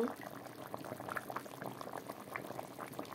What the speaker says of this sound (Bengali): আমার মাছের ঝোল উত্তান উঠে গেল।